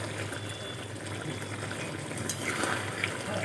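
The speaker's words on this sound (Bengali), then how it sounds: "গরম মশলা দিয়ে আমি নেড়ে দেব" Soft frying hiss and light stirring of a fish curry in a pan after garam masala goes in, a low steady sizzle without talk.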